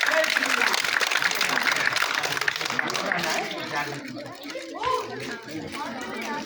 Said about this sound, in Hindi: ये हनुमान जी के नाम की तालियां बजा दो जोरदारी से।